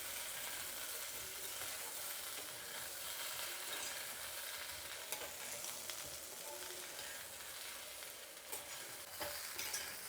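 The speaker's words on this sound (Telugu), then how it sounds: "ముక్కలు ఎక్కడ చెదిరిపోకుండా కలుపుకోవాలండి." Potato sambar being stirred and fried in a pan, a steady sizzle with soft scraping stir strokes running continuously and fairly quietly, no talk.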